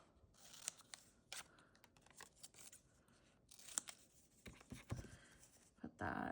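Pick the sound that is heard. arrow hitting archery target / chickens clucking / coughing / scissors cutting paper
scissors cutting paper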